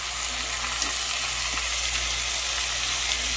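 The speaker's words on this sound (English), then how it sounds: "Put it in a lightly oiled skillet on medium heat." Flour-dusted oxtail pieces browning in a lightly oiled electric skillet on medium heat, a steady close sizzle and frying hiss that holds without pause, with no talking.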